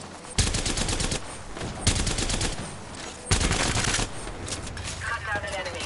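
Video game gunfire erupts in loud, rapid automatic bursts, three sharp volleys separated by short pauses, with a game voice speaking over the shooting.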